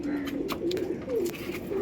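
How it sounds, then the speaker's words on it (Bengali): Pigeons coo in a low, wavering call, repeated several times close by, with faint rustles from the birds. "আর সকালে পায়রা ছেড়েছি ওই পায়রা উঠছে"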